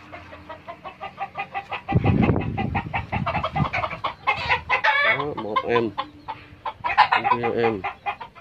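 Chickens in a backyard coop, including American and Cuban breeds, clucking and calling close by in repeated bursts, with a louder flurry near the middle and a few faint voices underneath.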